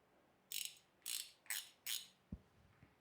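A ratchet wrench being worked on a ladder fitting clicks in four quick, separate bursts, each a dry metallic ratcheting. A softer knock or two follows at the end, and no one speaks.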